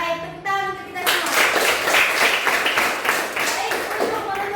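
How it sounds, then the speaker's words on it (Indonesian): A school class claps hands together in a classroom, the clapping starting about a second in after a brief tone and going on as a fairly close, uneven patter with children's voices mixed in. "tepuk tangan untuk kita semua"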